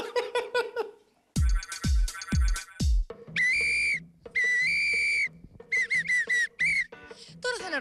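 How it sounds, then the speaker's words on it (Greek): A person whistles a song tune in a series of bright, shrill phrases, some long held and some quick and choppy, loud and close, broken by a few sharp percussive knocks and brief pauses. "Αναρωτιέστε γιατί σφυρίζω στη μέση του πουθενά."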